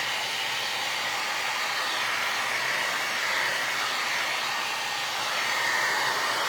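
A hair dryer blows steadily and loudly close by, drying decoupage glue on a vinyl record turned into holiday decor, a continuous even whoosh with no pauses.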